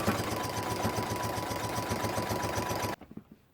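A sewing machine stitching binding onto a quilt, a close, fast steady mechanical whirr with rapid needle clatter that stops abruptly near the end, followed by a few soft handling sounds.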